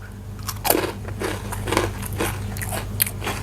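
Crispy baked vegetable chips bitten and chewed up close, giving several sharp crunches and crackly bites spaced across a few seconds over a low steady hum.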